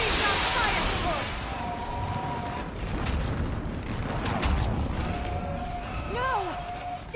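Mass Effect 3 battle with artillery fire support, heavy booms and explosions rumbling under a dense wash of combat noise, shouting voices and a few sweeping synthetic whines.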